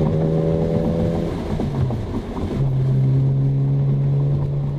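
A BMW Z4 M Coupe cruises at 60 in fourth gear, its engine a smooth, steady drone heard from inside the cabin, with a slight dip in pitch midway before settling back.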